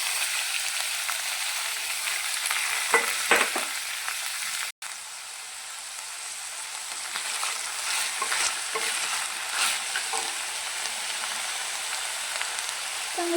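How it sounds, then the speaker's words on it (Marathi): Moth beans, chickpeas and peas fry in a little oil in a kadhai, giving a steady close sizzle with occasional stirring scrapes and a brief dropout partway through. "त्याच्यामध्ये आपण घेतलेले मटकी, हरभरे आणि वाटाणे मस्त फ्राय करून घेऊया."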